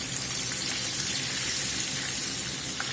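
Catfish pieces frying in hot oil for crispy fried catfish, a steady broadband sizzle that holds evenly throughout with no talk over it.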